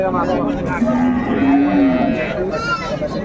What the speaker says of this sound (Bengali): গাভী বাচ্চাগুলো দেখছিলাম এখানে সুন্দর কোয়ালিটি